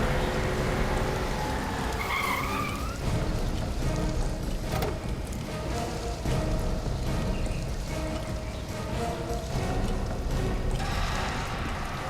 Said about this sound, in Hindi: कोई गाड़ी आई है।